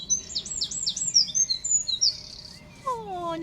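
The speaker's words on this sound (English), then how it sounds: "you've got a bird singing to you while you work" A small songbird sings a rapid series of bright chirps and trills nearby, clear and moderately loud against quiet background, by a narrowboat during outdoor paintwork.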